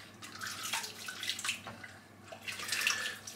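Warm water runs from a tap into a shaving bowl in a sink, a faint splashing trickle that swells and fades in short bursts.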